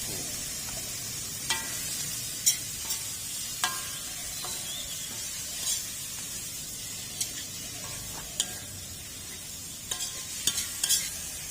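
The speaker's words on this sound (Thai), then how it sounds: "โหผัดไปเรื่อย ๆ ก่อนใบกลาง" Belly pieces of Mekong giant catfish stir-fried in a pan as a spicy Thai stir-fry, a soft steady sizzle broken by intermittent scraping and clattering strokes of a spatula, with no talking.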